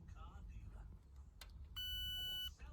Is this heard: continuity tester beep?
yes